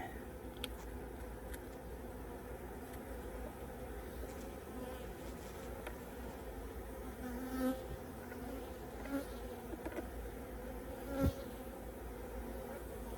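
A steady, dense hum of many honey bees buzzing together at a hive continues throughout, fairly quiet, with occasional louder individual bees passing close.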